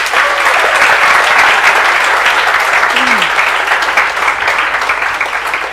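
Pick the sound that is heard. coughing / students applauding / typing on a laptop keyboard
students applauding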